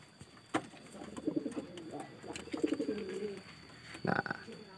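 A grey-brown breeding pigeon coos up close, giving a few soft throaty rolling calls with brief pauses, alongside some light clicks and handling noises.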